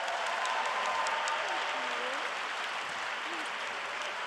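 An audience at a university commencement ceremony claps to welcome a speaker, with sustained, fairly distant applause and a few scattered cheers and voices rising from the crowd.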